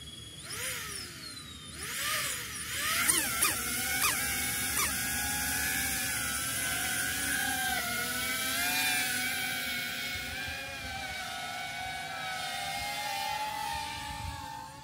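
DJI Avata 2 FPV drone starting its motors, a rising whine sweeping up in pitch over the first few seconds and then settling into a steady high-pitched whirring hum, fairly close.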